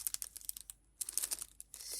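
Adhesive tape being peeled off a diamond painting canvas, a series of close crinkly ripping and crackling bursts separated by short pauses, loud and alone with no voices.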